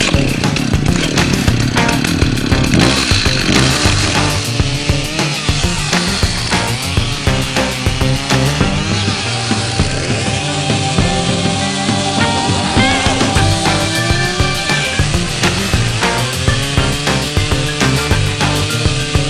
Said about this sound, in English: it's a whole tree has fallen right in the path that takes me to the cabin. So immediately, I have to take care of that. And it's gonna require a chainsaw.